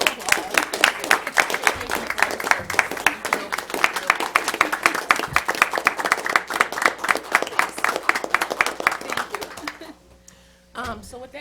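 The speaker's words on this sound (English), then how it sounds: "So I just want to give you applause." Applause at a school board meeting, a room of people clapping loudly and rapidly for several seconds with voices mixed in, then tapering off into quiet near the end.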